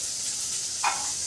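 Onions and garlic sizzle in a pan as a bangla pumpkin-leaf mash is started, a steady soft hiss with a brief brighter crackle near the end.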